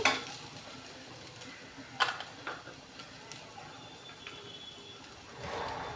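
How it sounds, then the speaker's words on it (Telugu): Onions frying in a pan for a ridge gourd and moong dal curry, with a soft steady sizzle, occasional stirring clicks and scrapes close by, and no talking. "అగో వేగేయండి ఉల్లిపాయలు వేగాయి"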